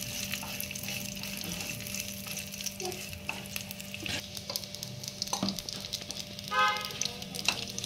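Poppy seeds and dry fruits sautéing in a pan, a steady sizzle broken by repeated scraping stirs of a spoon, with a short tonal honk in the background.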